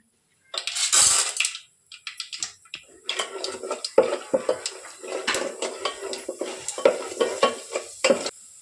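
Mustard seeds, curry leaves and chana dal splutter in hot oil for upma, with sharp crackling pops and metallic clinks of a spoon in the pan. The sound is close and busy after a brief opening burst of hiss.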